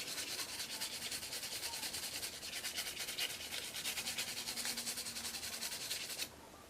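Steady, rapid scratchy rubbing of a spoolie brush against false eyelashes, close and quiet, with a fine rhythmic bristle texture that stops abruptly near the end.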